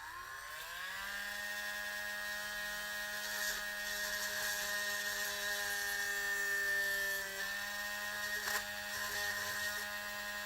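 A small drill bit bores steadily through tough plastic on a Goliath or Hellwitch toy, a high whining motor tone that rises as the bit spins up, then holds loud and continuous throughout with slight dips under load.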